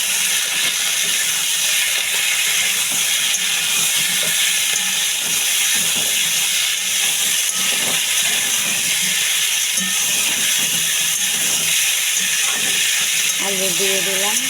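Potatoes sizzle in a pan for a vegetable chorchori curry, a loud, steady frying hiss that runs close and continuous throughout.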